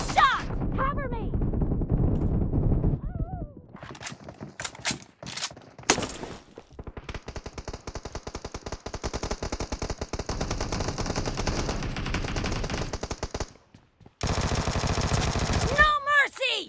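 Rapid automatic gunfire from a team deathmatch shooter game, sustained bursts loud and close for most of the span, with short gaps, shouted voice lines and game effects at the start and end.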